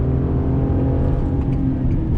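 The V6 engine of a 2019 Chevy Colorado ZR2 with an 8-speed automatic drones steadily under full throttle, a loud, close, even hum with faint whirring on top and no talk.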